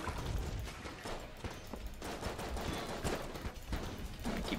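Bolts fire rapidly in Enter the Gungeon, a dense stream of gunfire-like shots that runs continuously and loudly for several seconds.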